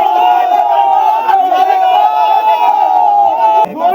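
Crowd of BJP supporters chanting 'thief, thief' slogans at the Katwa court premises during a protest, a loud, dense mass of voices shouting continuously with steady energy throughout.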